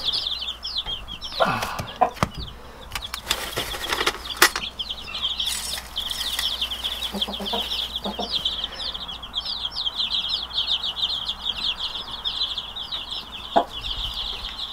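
Meat chickens on a farm cluck and chirp steadily at close range, with bursts of wing flapping and scuffling scattered throughout over a constant low background hum.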